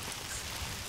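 Steady cartoon rain hisses evenly throughout, a soft constant wash with no voices over it, set outside where a picnic is being spoiled by the wet weather.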